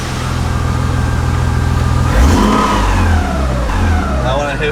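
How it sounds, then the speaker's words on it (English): A Toyota 1JZ engine swapped into a BMW E36, wired to run without its ignition, idles steadily up close and then revs up and settles into a rising, uneven roar. "Car now runs."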